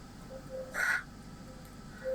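A single loud caw from a crow, one harsh call close by, standing out over quiet outdoor background noise.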